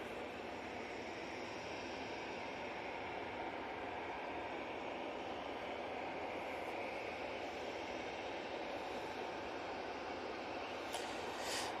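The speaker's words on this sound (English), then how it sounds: "We do have beautiful 321neo making its way down towards us." Airbus A321neo airliner descending towards Manchester Airport, a faint, steady distant roar of jet engines with broadband rushing noise, no voices.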